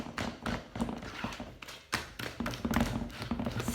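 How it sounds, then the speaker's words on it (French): Dough for mini harcha is mixed and slapped in a dish, making repeated wet, thudding taps in an uneven rhythm, close and fairly loud, with brief pauses between bursts. "on mélange, on n'hésite pas à bien claquer"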